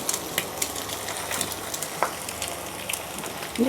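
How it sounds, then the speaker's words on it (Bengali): An egg fries in a pan with a soft, steady crackle and sizzle, fairly quiet and near. A few faint clicks are scattered through it. "এদিকে আমি তার ডিম ভেজে দিচ্ছি"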